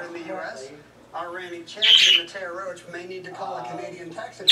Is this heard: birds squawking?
yes